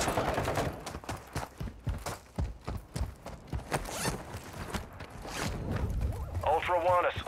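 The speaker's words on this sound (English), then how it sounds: "You are taking effective fire." Incoming gunfire in the Call of Duty DMZ video game, with scattered sharp bursts of shots and impacts crackling through a busy firefight, mixed with radio voice callouts.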